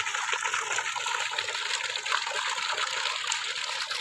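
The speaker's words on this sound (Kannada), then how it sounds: "ನೀರು ಹೊಡಿತಾ ಇದೆ ಸರ್" Water gushes from a borewell pump outlet on farmland, a loud, steady, broadband rush that keeps going without a break.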